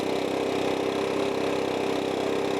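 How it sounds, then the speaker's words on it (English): A Stihl 4-Mix small engine runs steadily during carburetor low-idle adjustment, a loud, close, continuous buzzing drone with an even pitch throughout. "Now we're going to turn the low idle in. So we get to the highest RPM."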